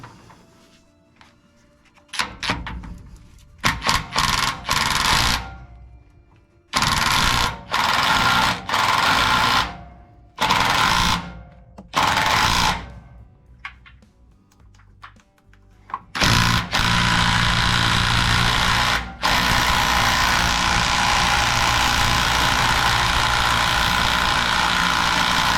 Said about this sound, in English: Now what I'm going to do is use an impact wrench that I have, and that should eliminate that problem for me.